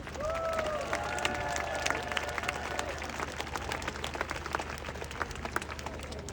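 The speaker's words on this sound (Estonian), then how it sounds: "Palun veel suurt aplausi Narva sümfooniaorkestrile." Audience applause at a live concert by the Narva Symphony Orchestra, dense steady clapping from a large crowd with some cheers and whistles, sustained for several seconds.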